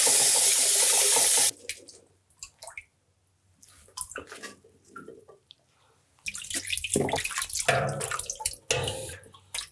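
Kitchen tap water rinses blueberries in a sink: a loud full stream at first, then stops, followed by scattered splashing and trickles as the berries are swished, the running stream returning strongly toward the end.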